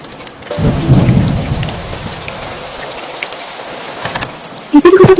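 Heavy rain falls steadily over a miniature village setting with a low rumble of thunder early on, the continuous patter of drops holding throughout before a few sharper taps and knocks at the end.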